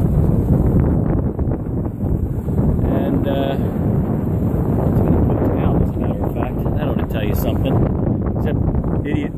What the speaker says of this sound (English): I have no idea what the wind is, but it has picked up a bit.